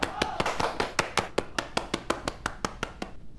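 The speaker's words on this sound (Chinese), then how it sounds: "鼓掌！" A small group claps in a soldiers' barracks to celebrate a comrade's transfer into a digital reconnaissance company, the claps sparse and evenly spaced, a dozen or so sharp hits close by with no one speaking.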